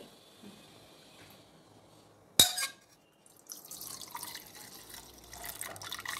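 A sharp clink, then a brief pause before water splashes and pours off steadily from cooked lentils being drained, close by.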